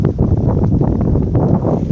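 Steady wind blows across a beach on the shore at Le Port, Réunion, where surf spray drifts over the sand. The gusts rumble loudly and continuously against the microphone, and no voices are heard.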